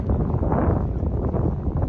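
Strong wind buffeting the microphone beside a stream during gold prospecting, a loud, low, rumbling roar with gusty swells throughout.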